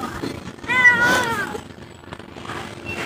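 A hungry domestic cat calls out with one loud drawn-out meow close by, then softer trailing mews, with a faint household hum behind it.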